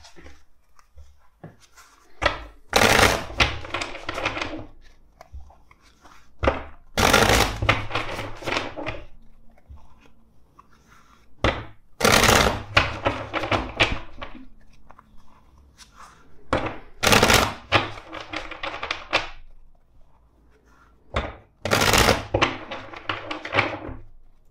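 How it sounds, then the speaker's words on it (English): A tarot card deck being shuffled, with bursts of crisp riffling and card-slapping separated by short pauses, repeated about four or five times and heard up close with no talking. "let's shuffle this deck four times for you"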